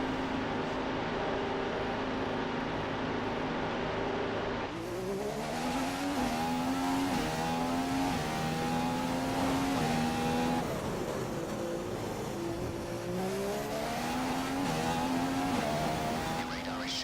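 Race cars from the F1 2015 video game, set in Australia with several cars on track: a continuous high engine whine whose pitch climbs and drops through gear changes, loud and steady for the whole stretch with no talking.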